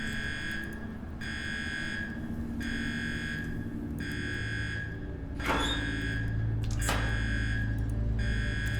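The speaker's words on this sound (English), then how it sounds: "Setting off this alarm might have other repercussions further into this." An alarm in the video game UnderRail blares in repeated regular electronic buzzing pulses, roughly one per second, over a low background hum, with a couple of sharp impact-like clicks partway through.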